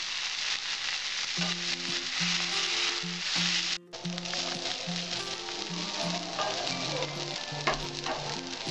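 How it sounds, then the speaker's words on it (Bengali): Soft, steady sizzling of jute leaves frying in a pan beneath background music, with a brief dropout partway through and a few light scrapes. "আমার ভাজাটা মোটামুটি হয়ে আসছে"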